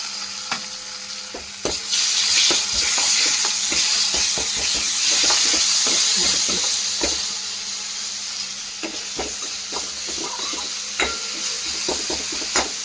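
Ginger-garlic paste fries in a hot pan, sizzling loudly and steadily while a spatula clicks and scrapes in a quick, irregular rhythm, with no voices.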